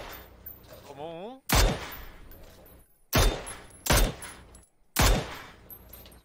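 Bursts of gunfire in the battle-royale game PUBG, four sharp, loud volleys spaced about a second or more apart, each cracking out and decaying quickly, with quieter in-game noise and a short rising tone between them.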